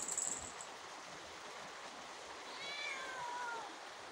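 A cat meows in the rain, one brief high call at the start and a longer, wavering cry later, both over a steady hiss of falling rain.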